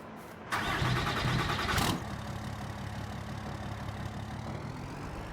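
A pickup truck engine in Farming Simulator 22 cranks briefly, catches, then settles into a steady, close idle rumble.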